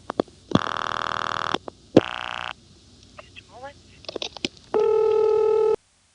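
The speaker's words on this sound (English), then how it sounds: "I'm dialing from the Cabot payphone and dialing into Marshfield 426." A rotary payphone in Cabot, Vermont, in the 1970s, dialed into the Marshfield exchange, gives bursts of buzzy tones. Short clicks and pulses fall between them, then a final steady tone ends abruptly, all heard alone with no talk.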